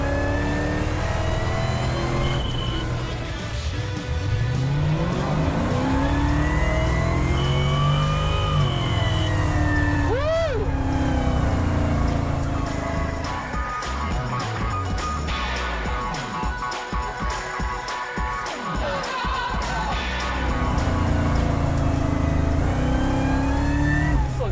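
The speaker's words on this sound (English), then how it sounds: "The rev limiter, it's freaking awesome." A supercharged 1967 Pontiac GTO restomod's V8 rumbles at idle and then revs hard again and again, climbing up to the rev limiter in loud, close bursts with rising and falling engine pitch.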